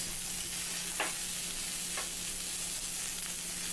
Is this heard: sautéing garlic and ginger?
yes